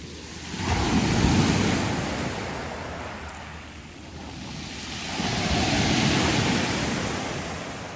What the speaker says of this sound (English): There's a few huge waves there.